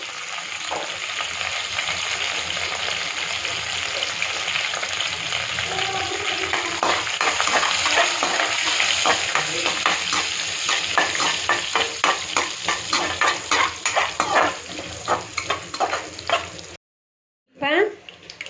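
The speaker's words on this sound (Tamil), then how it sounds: "கருவேப்பிலையும் போட்டுக்கோங்க நல்லா பொரியட்டும்" Curry leaves and dried red chillies fry in hot oil, a dense continuous crackling sizzle up close with stirring scrapes that grows choppier toward the end before a brief drop-out.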